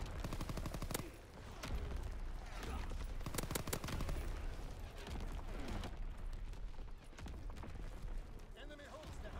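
Incoming enemy artillery in a multiplayer shooter game match at a hardpoint objective: dense, continuous gunfire and repeated heavy booms and blasts fill the scene, loud and close, with voices in the background.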